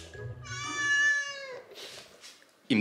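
A young cat gives a single drawn-out, clear meow lasting about a second, close and fairly loud, followed by quieter rustling and a brief knock at the end.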